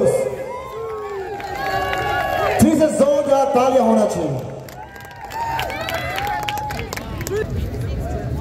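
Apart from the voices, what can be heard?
audience applause and cheering for contest winners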